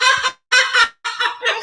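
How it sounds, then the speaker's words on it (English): A recorded bird gives a run of loud, raspy, cackling bursts. There are about four choppy calls separated by short gaps, close and clear with no talk over them. "I gotta play that bird."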